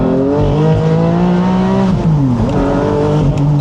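A hybrid Porsche Boxster accelerates hard on hot tyres, its engine note rising loud and close with a brief dip and shift as the wheels spin, no voices.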